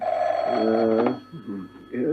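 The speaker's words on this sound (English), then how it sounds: "Later, in the Admiralty, the red scrambler phone rang." A red scrambler telephone at the Admiralty rings in loud, close bursts, then falls quiet as a voice answers and speaks.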